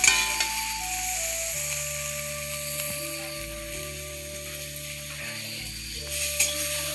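Vegetables frying in oil in a pan, a steady hiss of sizzling with faint stirring sounds under a droning, humming background, no speech.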